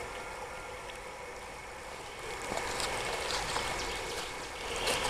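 A small stream flows and trickles in a steady soft wash among poplar trees, fairly quiet and close, with the water rising slightly in volume midway and no talking.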